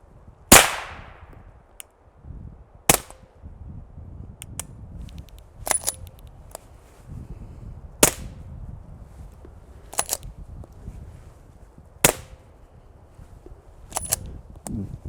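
Subsonic 9mm gunshots firing 165 grain Freedom Munitions Hush ammo, sharp isolated cracks spaced a second or two apart, about eight of them, with quieter clicks and handling noise between, heard close and without talk.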